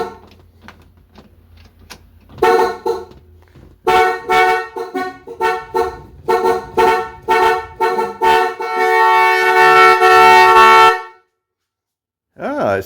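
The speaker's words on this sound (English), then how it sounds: "So we got horn." Horn of a 1965 Ford Mustang with a 289 engine and faulty horn contacts, honking in a string of short erratic blasts and then one long continuous blare before cutting off, loud and close.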